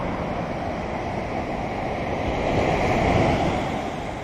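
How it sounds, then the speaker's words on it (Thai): Sea waves surging and splashing up onto the beachfront road at Patong, Phuket, after rain, a continuous heavy roar of surf with gusting wind noise that swells louder midway. "น้ำทะเล สาดขึ้นมาถึงถนนนะฮะ"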